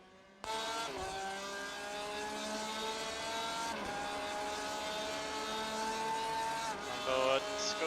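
A Porsche GTE race car in an iRacing sim at Circuit of the Americas holds a steady high engine drone on the straight, its pitch climbing through gear changes with a brief dip partway through and a shift near the end, under soft talk.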